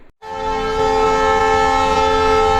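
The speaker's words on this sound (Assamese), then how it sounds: "লগতে ট্ৰেইনো আহি পাল" A train horn blares as a train arrives at a station in Guwahati. It sounds as one loud, steady, close blast that starts abruptly after a brief silence and holds for the rest of the clip.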